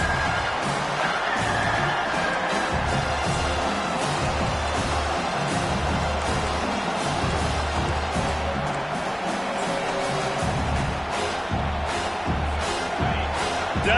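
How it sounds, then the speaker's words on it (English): A college football stadium crowd roars steadily for the defense on third down, a dense, sustained wall of cheering and noise with no pauses. "Decibels rising as the crowd gets behind this defense on 3rd down"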